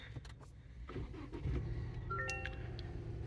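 A Toyota truck engine cranks and catches, settling into a low idle; brief clicks and a chime sound around the start. Close and fairly quiet, with no talking.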